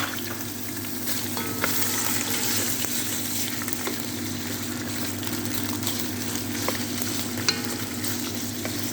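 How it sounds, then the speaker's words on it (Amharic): Dry spices frying in oil in a pan while cooking meat and rice biryani, giving a steady, dense sizzle throughout with a few faint clicks of stirring and no voices. "አብሬ እጠብሳለሁ።"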